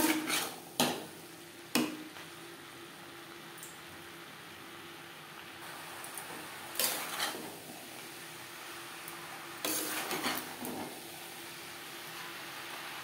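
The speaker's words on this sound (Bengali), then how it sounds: "হাই টু মিডিয়াম ফ্লেমে 4-5 মিনিট মশলা ও ছোলার সাথে মোচা নাড়াচাড়া করে নেব।" Banana flower stirred with chickpeas and spices in a pan over high to medium flame, with sharp clanks of a spatula against the metal pan at irregular intervals over a quiet kitchen background.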